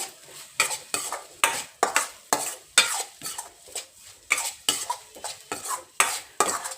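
Broccoli sautéing on a low flame with chilli powder and garam masala. A spatula stirs and scrapes the pan in steady, repeated strokes, with no voices.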